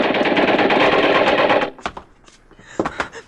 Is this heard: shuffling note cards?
no